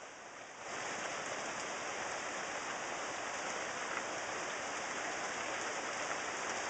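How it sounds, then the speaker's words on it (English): Steady rain pours down with a constant hiss, spreading evenly and unbroken after a brief quieter start. "I don't think it's going to stop raining for a while."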